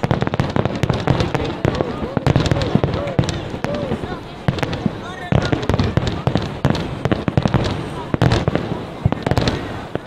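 Fourth of July fireworks in Wisconsin Dells pop and crackle in dense, rapid bursts for the whole stretch, loud and close, with voices and crowd chatter mixed in.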